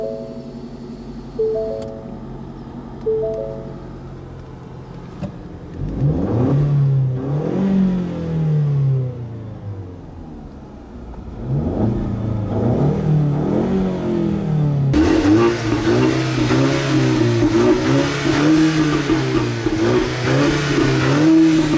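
A 2015 Ford Mustang EcoBoost four-cylinder engine idles, then revs hard several times in rising and falling sweeps, ending in a loud, sustained high-rpm run, close and with no talk.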